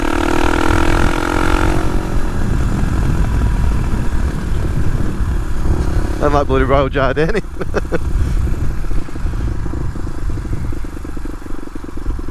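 A Suzuki DR250S dirt bike fitted with a loud Dominator R exhaust revs and settles back in bursts, the raspy engine noise running close and loud beneath someone talking.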